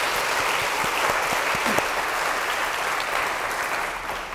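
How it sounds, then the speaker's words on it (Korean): Congregation applause during a Sunday young adults' church service, a steady full round of clapping from many hands lasting throughout, even in level and easing slightly at the end. "우리 하나님께 우리 다 같이 영광의 박수"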